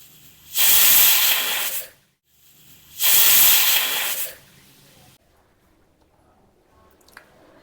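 A pressure cooker of khara pongal on the stove lets off steam in two loud, hissing bursts, each lasting over a second, followed by near silence.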